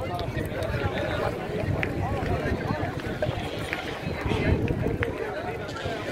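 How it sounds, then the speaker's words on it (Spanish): Strong wind buffeting a microphone outdoors at a pétanque club in Elda, Alicante, a constant rumbling roar throughout with a voice talking underneath. "Uy, el viento que hace."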